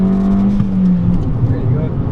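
A Fiat Abarth 500 on the Mondello Park national circuit accelerates at full throttle, its engine drone holding a steady strong pitch near and loud inside the cabin, with rushing road and wind noise beneath.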